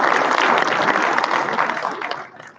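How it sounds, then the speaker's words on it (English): A large conference crowd at DevOpsDays Raleigh 2023 claps loudly for the organizers and volunteers, a dense and steady burst of applause that fades out over its last half second. "can we do a big round of applause to all the organizers and volunteers"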